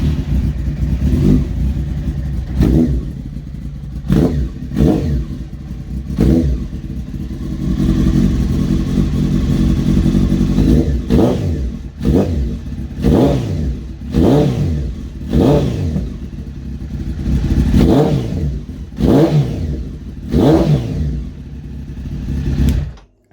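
A carburettor motorcycle engine in need of a service starts and is revved repeatedly, each throttle blip rising and falling in sharp bursts over a steady close idle, with no talk.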